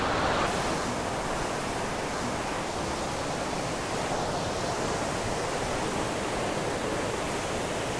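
A waterfall and river at Cradle Mountain pour in a steady, loud, broadband rush of water, close by and constant with no other sounds.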